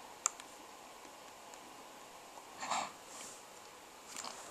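Sparse, faint computer mouse clicks in a quiet room, a few isolated sharp ticks spaced seconds apart with soft rustling between.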